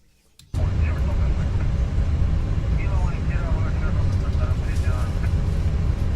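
Steady airplane cabin drone from a flight simulator video game, a loud continuous low rumble that starts abruptly after a brief quiet moment and holds even throughout, with a faint voice talking underneath.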